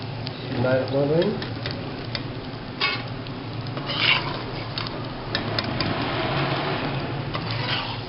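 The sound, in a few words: edible gum (gond) frying in ghee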